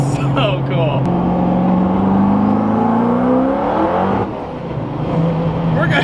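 A Hennessey Venom GT hypercar roars under maximum acceleration in Texas, a loud, close engine drone sweeping upward in pitch before easing off, with some talking mixed in.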